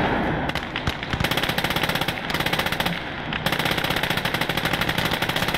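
Rapid machine-gun bursts rattle in the video game Gates of Hell, with dense repeated shots broken by brief pauses between volleys, loud and close with no talking.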